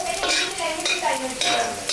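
Sliced garlic sizzles in hot oil in a pan while being stirred for chicken chowmein, with a steady close frying hiss and scraping stir strokes running throughout, no talk.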